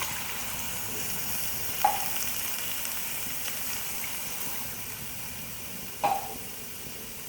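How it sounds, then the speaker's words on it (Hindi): Mutton and taro root curry sizzles and fries in a pot with a soft, steady hiss, broken by two brief sharp clinks of a utensil, fairly quiet and without talk. "2 कप पानी शामिल करेंगे।"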